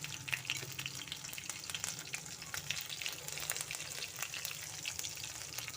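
Green chilies and cumin fry in a pan of hot oil while a Mumbai-style brinjal gravy is being made. A close, steady sizzle crackles throughout, with scattered pops and light stirring scrapes, and no talking.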